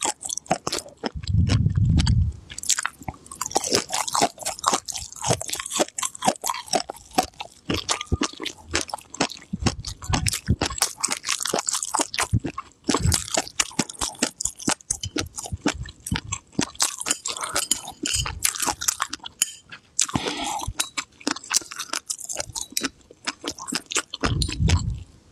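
Crunchy chewing of a raw food dipped in wasabi: close, steady crackling bites and moist squishing that run continuously through the clip, loud and without talk.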